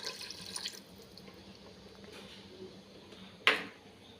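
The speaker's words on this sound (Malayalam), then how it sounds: "കുറച്ച് പുളിവെള്ളം കൂടെ ഒഴിക്കാം." Tamarind water is poured into tomato rasam cooking in a pot, giving a soft liquid splash and trickle near the start, then a brief sharper splash later, all fairly quiet with no talking.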